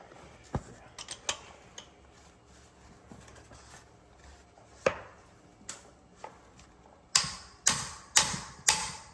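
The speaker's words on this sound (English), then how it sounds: "I'm gonna try hitting it with the hammer" Sharp metallic hammer strikes on a seized bolt ring out irregularly, a few scattered hits early, then a run of four or five hard, evenly spaced blows near the end.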